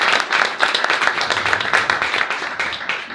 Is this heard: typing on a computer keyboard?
no